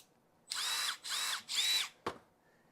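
A small cordless drill runs in three short, even bursts with brief gaps, loud and close, followed by a single sharp click. No talking.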